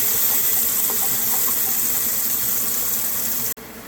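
Diced onion sizzles in a pan for creamy potato soup, a steady, bright hiss that stays loud and even throughout before cutting off abruptly near the end.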